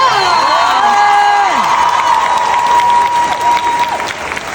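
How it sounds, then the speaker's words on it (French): Crowd applauding loudly, dense sustained clapping mixed with cheers, whoops and children's shouts, with high-pitched voices sliding over the din before it eases slightly near the end. "On peut les applaudir très fort"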